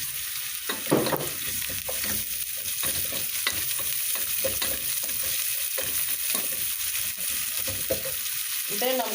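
Garlic and onion frying in a pan for a liver dish, a steady close sizzle with occasional stirring scrapes running throughout, no voices.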